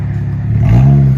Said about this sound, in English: If you guys don't want any rasp, go with the Dynamax race bullets, the parts I gave you.